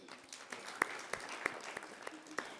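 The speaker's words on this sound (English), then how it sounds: "Another huge round of applause for the yesterdays." Scattered applause from an audience at a sports awards event, with sparse, uneven claps, fairly faint and thin rather than a full ovation.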